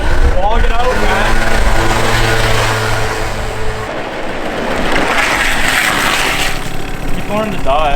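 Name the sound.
scooter engine idling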